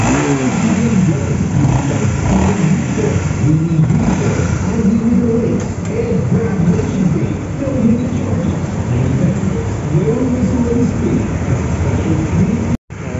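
A car engine revving hard and continuously on a test drive after a clutch lining and plate replacement, loud and close with rolling rises and falls, and a brief dropout near the end.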